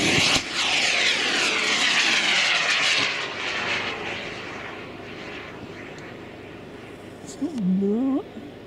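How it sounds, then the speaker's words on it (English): Model rocket launch outdoors: a loud rushing roar that starts abruptly and fades over several seconds as it climbs away, with people talking in the background. "This is Doyle's rocket going."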